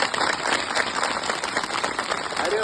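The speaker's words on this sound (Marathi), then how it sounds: "टाळी वाजवायची अशी सगळ्यांनी. वाजवा बरं जोरात, अजून जोरात," Students in a school clap loudly together, a dense continuous burst of applause from a crowd of children with some voices mixed in.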